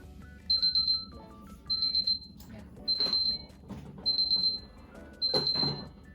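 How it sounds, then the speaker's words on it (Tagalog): A kitchen timer goes off while pancit canton cooks. It sounds five short bursts of rapid, high, piercing beeps at even intervals, with kitchen clatter and faint background noise between them. "Stop the timer."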